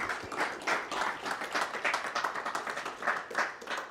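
A small audience at a UK Open pool tournament final in Glasgow claps in quick, uneven bursts, a modest, close round of applause from only a few people, with no voices over it.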